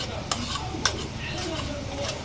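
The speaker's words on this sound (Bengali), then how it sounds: "আর এদিকে ডিম গুলো ভেজে নিব" Eggs frying in a pan, with a steady sizzle throughout and two sharp clinks of a utensil against the pan, being prepared alongside a chow mein meal.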